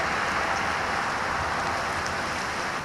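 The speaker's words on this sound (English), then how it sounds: "Now here comes the rain." Steady rain setting in outdoors under calm, windless conditions, a dense even hiss of drops on surfaces that holds constant from start to finish with no voices.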